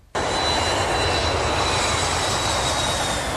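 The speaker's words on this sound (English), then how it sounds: "See, planes take off and land toward the wind." A fixed-wing airplane's engine roars loudly and steadily right from the start, a broad, sustained takeoff rumble with a faint high whine running through it and no talk.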